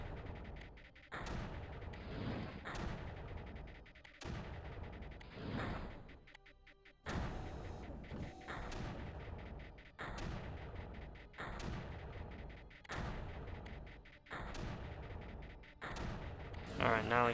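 Mortar fire in Creeper World 1 aimed at an emitter: a steady series of booming shots, roughly one every second or two, each a thudding blast with a short decay, over a faint game background.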